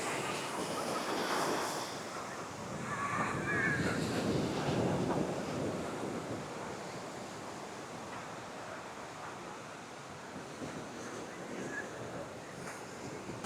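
Sea waves at Kovalam beach in Kerala roll in as a steady broad wash of surf, with wind buffeting the microphone throughout and no voices.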